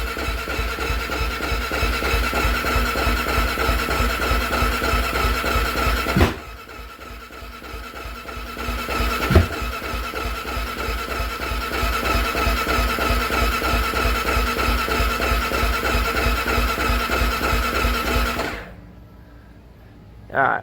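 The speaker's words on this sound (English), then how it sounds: "Alright, it's just cranking and cranking" A small engine on a toy with its choke on and the gas tank not bolted down, cranking steadily over and over without firing, a continuous rhythmic churn that breaks off briefly midway and stops near the end.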